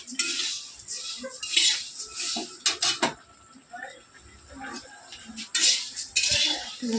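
Aloo chop frying in a pan is stirred and turned with a utensil, giving irregular metallic clinks and scrapes over a faint background sizzle, close by, with a brief murmur of voice.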